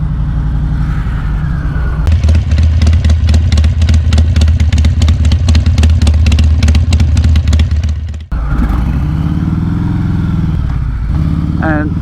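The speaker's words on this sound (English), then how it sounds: "I ride a Harley-Davidson Sport Glide" A Harley-Davidson Sport Glide engine idles loud with a deep, lumpy rumble, then revs hard in a rapid pulsing burst before dropping back to a throaty idle.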